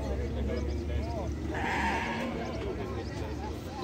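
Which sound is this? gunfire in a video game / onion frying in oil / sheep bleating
sheep bleating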